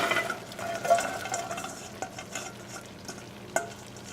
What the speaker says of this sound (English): I'm going to take my cabbage, my bean sprouts, and my bamboo shoots, and I'm going to add them all to the mixture